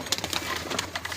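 Pigeons coo softly inside their coop in a brief, close burst of low murmuring calls.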